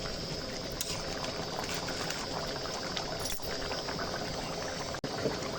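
Mutton paya boiling in a pot, a steady close bubbling simmer running throughout with a brief soft knock near the end.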